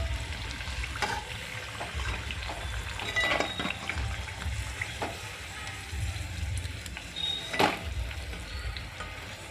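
Potato pakoras dipped in gram flour batter frying in hot oil, a steady close sizzle with occasional crackles and sharper pops, no talking.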